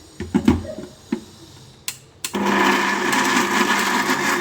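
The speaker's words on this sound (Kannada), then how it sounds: "ಈಗ ಇದನ್ನು ಗ್ರೈಂಡ್ ಮಾಡ್ಕೊತೀನಿ" Kitchen mixer grinder grinding ridge gourd chutney: a few clicks and knocks as it is set up, then the motor starts with a sudden loud, steady high whir that runs to the end.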